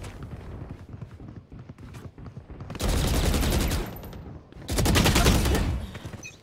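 Two loud, sustained bursts of Vandal rifle fire in the video game Valorant, each lasting about a second and a half, separated by quieter in-game footsteps and clicks.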